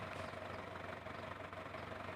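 A rock crusher machine engine idles somewhere on a mountainside, giving a continuous low, rumbling drone that holds steady and fairly faint, with no voices.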